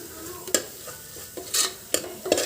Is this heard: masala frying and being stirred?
yes